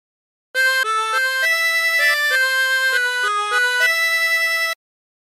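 A harmonica plays a sustained, continuous phrase of the melody from a song, with clear stepping notes and inhaled and blown reed tones. It sounds alone, close and steady for about four seconds.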